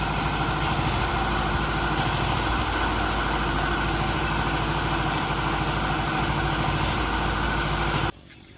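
A motorcycle engine idles steadily during servicing with a continuous low rumble, close by, then cuts off abruptly near the end.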